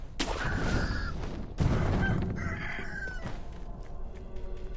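Roosters crowing in the video game Sekiro: Shadows Die Twice, with several loud, overlapping crows close by amid a busy in-game soundscape.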